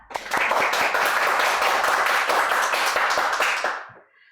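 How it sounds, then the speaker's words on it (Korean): Audience at a labor union discussion forum clapping to welcome a presenter, a loud continuous burst of many hands that holds steady for several seconds and then quickly dies away. "먼저 박수로 발제자를 환영하도록 하겠습니다."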